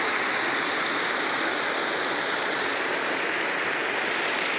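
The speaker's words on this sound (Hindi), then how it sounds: "बहुत ही बढ़िया छोटा सा वाटरफॉल है।" A small waterfall beside the Markandi river, a steady broadband rush of falling water, loud, close and unbroken with no voices.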